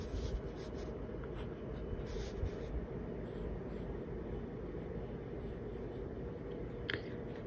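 A TWSBI Swipe fountain pen scratches continuously across slippery paper, a close, steady writing rasp over a low background hum for several seconds.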